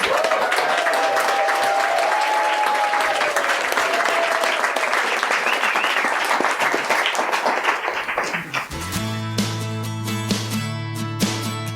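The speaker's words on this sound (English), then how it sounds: "Let's give our panelists a round of applause." A live audience applauds panelists at a food, farming and healing arts event. Dense, steady clapping runs for about eight seconds, then music takes over.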